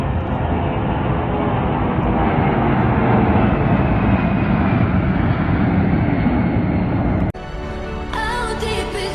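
A large jet airplane roars loudly overhead at an Australian air show, a dense sustained engine rush lasting about seven seconds before it cuts away to music.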